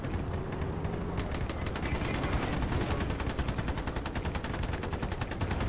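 Automatic gunfire in the video game Battlefield Play4Free, a long, rapid, evenly spaced burst of shots, loud and close, firing continuously over dense battlefield noise.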